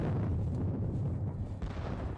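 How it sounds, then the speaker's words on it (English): French artillery fire in a Napoleonic wargame at Valmy: a continuous heavy rumble of distant cannon booms rolling into one another, loud and dense, with a slight surge near the end, no voice. "Despite that vicious French artillery"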